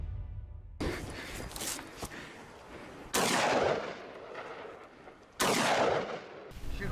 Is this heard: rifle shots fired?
yes